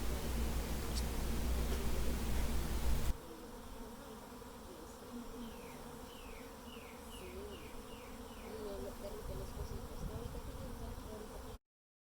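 Honey bees drone steadily around an open hive during the first inspection of the year, a dense continuous buzz with a louder rumbling start that settles into a softer, even hum of many insects.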